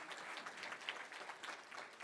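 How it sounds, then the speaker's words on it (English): Audience applause fills a room at a Hall of Fame awards luncheon, a steady patter of many hands clapping at a moderate, somewhat distant level without a break. "Oh, go clap for Bonnie."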